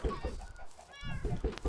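Chickens in the Minecraft video game cluck in short repeated bursts, close and fairly loud, with a brief higher squawk in the middle and an uneven, choppy rhythm.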